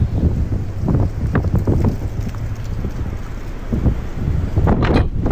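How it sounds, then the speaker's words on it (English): Steady wind rushing and buffeting against the microphone, with occasional louder gusts and some rumbling thumps. "Damn, it's windy. It's windy as hell."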